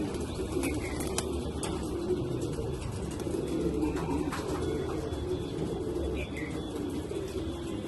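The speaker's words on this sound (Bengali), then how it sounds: "আমার হাতে একটা বার্লেস কবুতর দেখতে পাচ্ছেন" Soft, repeated cooing of a barless pigeon over a steady low background hum, with occasional faint chirps and clicks.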